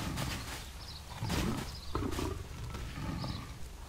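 A tiger mount in the online game Tera gives deep, growling roars, several loud bursts in a row with rumbling low growls between them, no voices over them.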